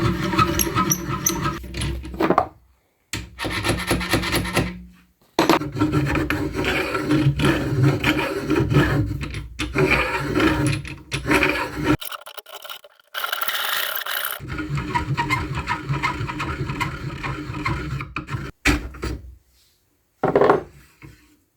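Three-point cutter jug-choking the barrel of a flintlock fowler, a loud, steady metallic rasping and grinding in long bursts, broken by a few short pauses and one brief higher-pitched scrape.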